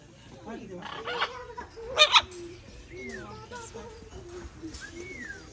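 Birds in an aviary with chickens clucking, scattered clucks and calls over a low background, one sharp louder burst midway, with people talking nearby.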